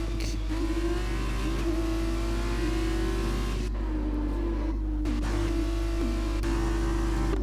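An on-board racing car engine from rFactor 2 drones loudly and steadily at high revs, with brief dips and shifts as the driver nearly loses control, close and continuous.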